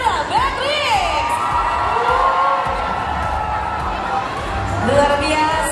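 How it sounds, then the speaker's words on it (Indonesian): Studio audience at an Indonesian television show cheers, whoops and shouts continuously for arriving Ramadan soap opera actors, a loud sustained crowd roar with high excited voices throughout. "Beri tepuk tangan yang meriah untuk Baby Marcelia, Emil Kusumo, dan Sarah Beatrix."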